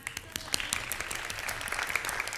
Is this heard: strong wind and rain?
no